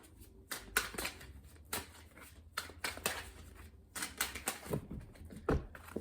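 Crisp riffling and snapping of tarot cards being shuffled, in several quick bursts with short pauses between, close and fairly quiet.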